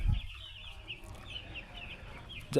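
Native chicks cluck and chirp faintly in the background at a wholesale chick market, with a few louder bumps at the start and end.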